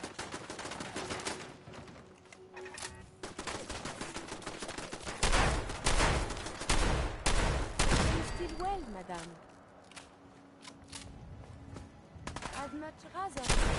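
Turret gunfire in the video game Fallout 4: loud, irregular volleys and single shots that crack out repeatedly, mixed with other game sounds and scattered voices.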